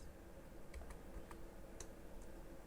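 A computer keyboard clicks faintly and sparsely as a value is typed and Enter is pressed, a handful of light taps over a quiet background hum.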